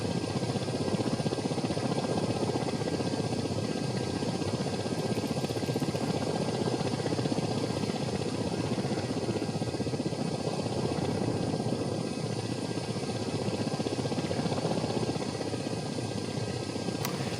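A helicopter flies in a video game flight simulator, its steady rotor and engine drone running loud and unbroken throughout, with no voices over it.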